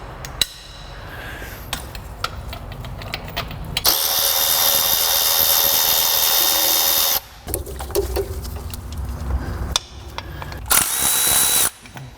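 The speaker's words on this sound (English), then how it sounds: "Get that crank bolt out of there." A power tool whirs and rattles loudly while removing the crank bolt on a Mini Cooper N14 engine, starting with short bursts and clicks, then a long continuous run, followed by further short impact bursts close by.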